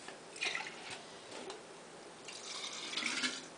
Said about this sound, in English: And then I'm going to put some milk in there.